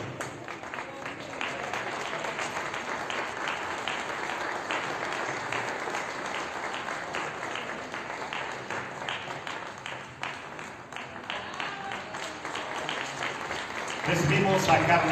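Audience applause for restorers at a Mexican cultural ceremony, a dense, steady clapping wash running throughout with speech over it, swelling louder in the last second.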